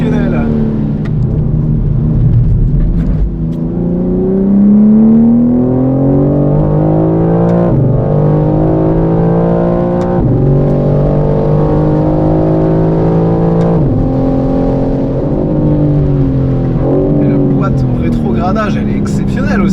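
A BMW M4 CSL's engine pulls hard through repeated gear changes as the car drives, the revs climbing in long sweeps and dropping at each shift, loud and close with a voice talking over it.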